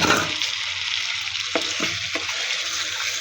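Fried eggs dropped into a pan of sizzling spice paste for egg korma, a steady bright frying hiss throughout with a few soft stirring clicks and scrapes in the middle.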